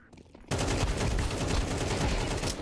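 Video-game rifle, an AK, firing a sustained rapid burst that starts abruptly and rattles on loud and close until the end.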